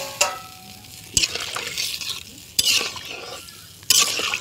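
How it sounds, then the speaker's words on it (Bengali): Watery fish curry stirred in a pan, with a soft bubbling sizzle punctuated by four sharp clanks of the spoon against the pot, roughly evenly spaced, close by. "লাড়া চাড়া দিয়ে নিই"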